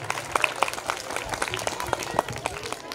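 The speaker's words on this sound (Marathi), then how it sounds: "त्यांचं टाळ्या वाजवून पुन्हा एकदा स्वागत होऊ द्या." An audience at an inauguration ceremony claps in scattered, uneven bursts, with crowd murmur and stray voices mixed in.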